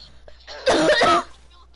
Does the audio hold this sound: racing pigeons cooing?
no